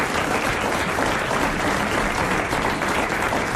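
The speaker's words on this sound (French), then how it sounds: "Vous l'applaudissez." A studio audience claps warmly on a French TV talk show, dense, loud, sustained applause that continues evenly without speech.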